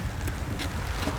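A steady headwind rushes across a lotus pond during evening fishing, producing a dense, continuous roar of wind buffeting the microphone for a moment.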